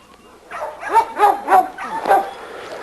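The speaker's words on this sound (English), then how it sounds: "This is our little champion Rocco Dog" A small dog barks in a yard, four or five quick, yappy barks in a row with a whiny edge, close and clear against a quiet background.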